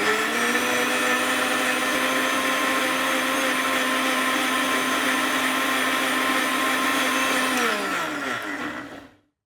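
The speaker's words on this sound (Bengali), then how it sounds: "আমরা এখন একটা ব্লেন্ড করব। ওকে, এখন ব্লেন্ড হবে।" Electric blender running steadily while blending coconut for coconut milk, a loud continuous motor whir with a steady pitch that holds for about eight seconds, then winds down and stops.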